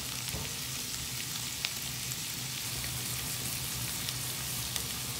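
Sliced onions and peppers sizzle steadily in a pan as they fry with salt, a continuous soft crackling hiss with occasional small pops and no talking.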